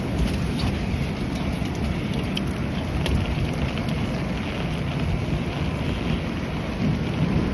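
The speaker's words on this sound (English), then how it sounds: "I'm getting pelted with either super heavy rain or I'm getting pelted with fucking hail" A severe thunderstorm with heavy rain and hail pelting down, making a dense, loud, steady roar with close pattering hits throughout and no speech.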